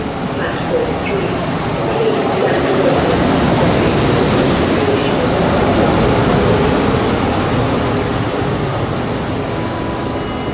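An EP09 electric locomotive hauls an Intercity express train through Poznań Główny station, a loud sustained rumble and rail roar lasting throughout, with a station announcement heard over it.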